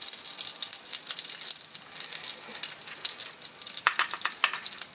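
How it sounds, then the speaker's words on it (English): Small test pancake sizzling on a hot griddle, a steady bright hiss with faint crackles and a few sharper spits near the end, no voices. "let's throw a little test cake down. Just a little one. Just see how it's going to cook."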